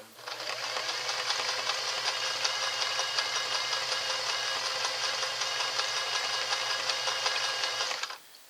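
A Singer Model 403A sewing machine runs double-needle stitching at a fast, even, rattling hum, starting and stopping cleanly, close and alone.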